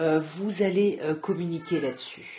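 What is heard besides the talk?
cat meowing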